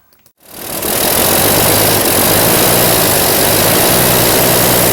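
A car engine started and run on an engine test stand with its valve cover off, catching after a brief crank and settling into a loud, steady idle with a clattering mechanical chatter.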